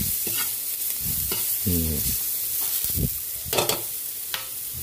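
Garlic and ginger sautéing in a pan for pork batchoy, with steady sizzling under the clatter of a utensil stirring and scraping, plus a brief squeaky tonal scrape partway through.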